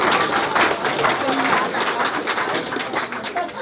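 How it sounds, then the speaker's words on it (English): A city council chamber audience gives a round of applause for a local student team, a dense wash of clapping mixed with crowd noise and some voices, steady and fairly loud throughout. "hey, how about a nice round of applause for this team?"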